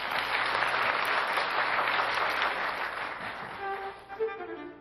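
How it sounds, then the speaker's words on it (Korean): An audience claps after live musicians play a passage of Beethoven at a lecture-concert, a dense, steady crowd applause lasting about four seconds before thinning out, with faint tonal sounds and murmurs creeping in at the end. "박수 한번 보내주시죠."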